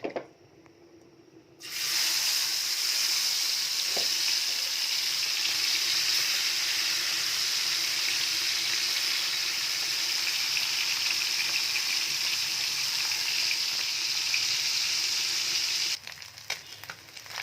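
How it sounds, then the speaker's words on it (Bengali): Guli fish sizzles loudly in hot oil with salt, turmeric and dried chilli, a steady dense frying hiss that starts abruptly after a quiet moment and runs unbroken before easing off near the end. "গুলি মাছটা প্রায় ভাজা শেষ"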